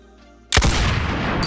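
A single massive 20mm anti-tank rifle shot fired one-handed in the Boneworks VR game, an abrupt loud blast after near silence, followed by a long heavy rumbling tail that fills the rest of the moment.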